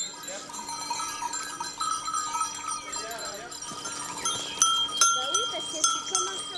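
Goats bleating among clanking cowbells on an Alpine mountain pasture at the start of summer, with scattered calls at moderate distance over a steady bright background of bells and outdoor ambience.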